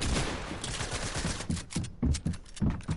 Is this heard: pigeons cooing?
no